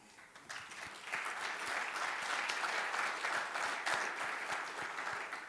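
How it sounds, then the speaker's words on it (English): A summit audience breaks into applause, many hands clapping that swell within the first second and hold at a steady, moderate level in an indoor hall before easing slightly at the end. "Let's get an applause for that."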